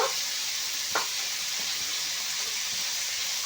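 Chopped tomatoes frying with onions in a pan make a constant, even sizzle, with a brief scrape of stirring near the start.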